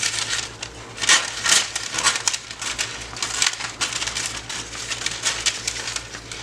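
Scissors snip and rustle through parchment paper while a circle is cut out, producing dense, crinkly crunching with irregular louder snips over a low steady hum, close and without talking.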